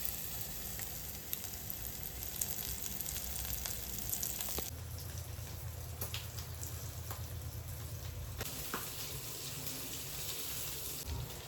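Semolina-coated slices of fish fry in hot oil with a loud, continuous sizzle and crackle that shifts in intensity as pieces are moved, with no voices.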